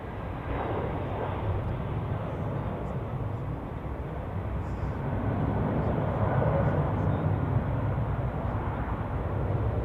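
Turkish Airlines airliner taking off in a strong crosswind during a storm at Zurich Airport: a steady, loud, broad jet roar that fills the whole stretch and swells slightly toward the end, heard from a distance without breaks.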